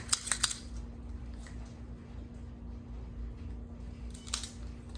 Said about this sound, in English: I'm going to do a guillotine cut on it.